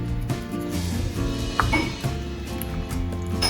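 A spoon stirs tomato sauce in a cooking pot, with metallic scraping and clinks against the pot rim, close and steady, as fresh Italian pizza sauce is made.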